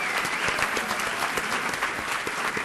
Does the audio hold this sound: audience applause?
yes